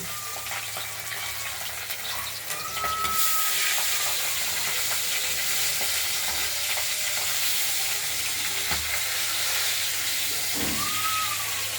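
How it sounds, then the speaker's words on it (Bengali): Pabda fish frying in hot oil in a wok gives a dense, hissing sizzle that swells sharply a few seconds in and then holds loud and steady, close up, with no voices. "এবার ভাজবো হালকা"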